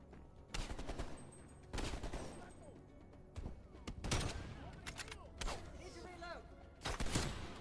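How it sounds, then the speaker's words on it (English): Enemy gunfire in the video game Call of Duty Black Ops Cold War comes in loud, separate bursts of rapid shots, about six volleys spaced a second or two apart, with some voices in the background. "they're shooting at us"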